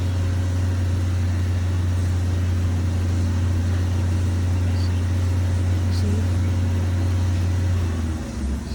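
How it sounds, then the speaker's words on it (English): Chevy Sonic/Cruze engine idling under load with a misfire on cylinder number 4, a steady close low hum and drone that drops away near the end, a faint voice under it. "if I put it on load, so the number 4 start misfiring"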